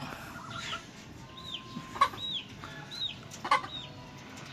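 Frost gray hens, an egg-laying breed, cluck softly in a run, giving several short, scattered calls over a low background hum.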